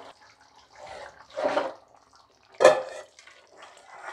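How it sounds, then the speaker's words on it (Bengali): Bengali winter aubergine, potato and bori curry is poured out in a few separate wet, sloshing bursts with quiet gaps between, close by and without talk. "এবার আমি ঢেলে নিচ্ছি।"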